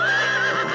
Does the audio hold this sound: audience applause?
no